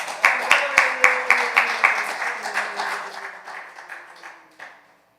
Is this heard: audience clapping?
yes